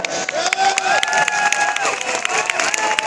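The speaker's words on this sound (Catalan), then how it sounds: "Un fort aplaudiment pels ganxets d'arreu." A carnival crowd in Barcelona claps and cheers, with scattered hand claps and raised voices filling a lively room at the Palau de la Virreina.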